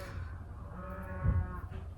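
Cows bellowing nearby on a farm, a single low moo swelling up near the middle over quiet background hum, fairly close and alone without talk.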